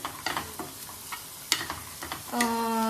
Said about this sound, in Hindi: अभी ये है कांदा जो फ्राई हो रहा है, इसमें रेड चटनी डाली हुई है हमने।